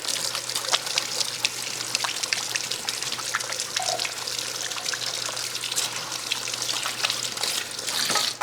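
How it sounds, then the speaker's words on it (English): Hands are washed under a running kitchen tap, a steady close stream of water with splashing and faint clinks throughout, with no voices. "Let me wash my hands."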